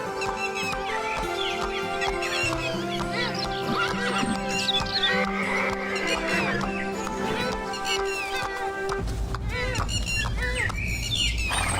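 A horse whinnies and neighs repeatedly as a king rides out alone from his palace, with hooves clip-clopping and birds chirping, all layered over steady dramatic music throughout.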